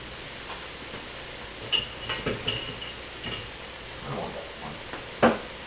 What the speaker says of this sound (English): if you can't see the bottom of the pan while you're browning, then you clearly aren't browning your beef